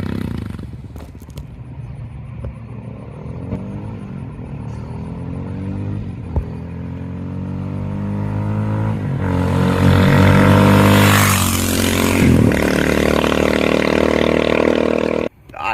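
A 2023 Kawasaki KLR 650 on a test ride on a road, its engine revving and shifting up through gears as it passes at a distance, then swelling louder near the end before cutting off.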